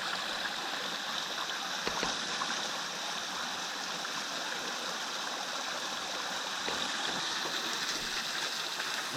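Clear creek water flows steadily near a small waterfall along the Haw Creek Falls woodland trail, a continuous rushing burble close by with no talking.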